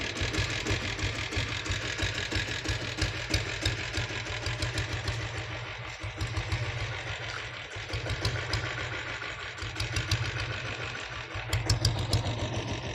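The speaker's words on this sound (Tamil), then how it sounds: "இப்போது இந்த வண்டியை ஸ்டார்ட் பண்ணி காட்டுறேன் பாருங்கள்." A vintage Royal Enfield Bullet motorcycle idles up close, its engine giving a steady, rapid thumping beat that stays even and unbroken with small swells in loudness.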